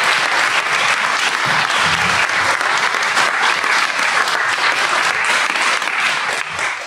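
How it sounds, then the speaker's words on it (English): Warm, sustained audience applause at a chamber music concert in a church in Norfolk, a steady dense roar of many hands clapping for the full stretch, easing slightly at the close. "I think Katie deserves another round of applause"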